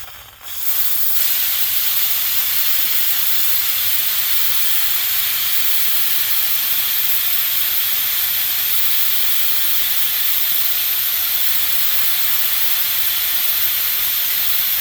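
Propane hisses loudly and steadily from a transfer kit fitting after a brief click, a broad, even rushing that continues unchanged for many seconds.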